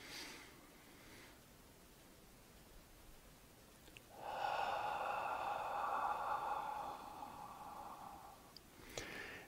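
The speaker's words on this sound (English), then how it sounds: "This is heart coherent breathing" A slow, deliberate breath in a quiet room for heart coherent breathing, with a faint inhale followed by a longer, louder airy exhale lasting about four seconds, then a brief rustle.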